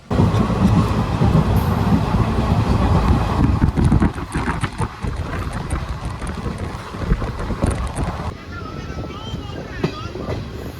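A train in a railway general coach rumbles along with wind noise and a dense, steady roar that eases after the first few seconds, and faint voices sit in the background.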